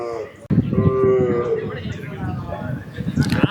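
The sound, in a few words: Kangeyam bull lowing at cattle market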